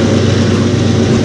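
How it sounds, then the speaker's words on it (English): Freight train diesel locomotives CN 3899 and CN 2843 rev hard pulling a manifest train up out of a tunnel, a loud, dense, steady low engine drone. "He sounds like he's revving pretty high for coming up out of the tunnel"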